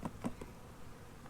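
Bees buzz around an open beehive during an inspection, a few louder close passes early, then a faint steady hum.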